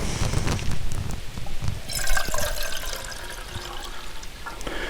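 Water poured into a pot while cooking banosh, a Transcarpathian cornmeal dish, a close, steady rushing splash that grows brighter midway and continues without voices.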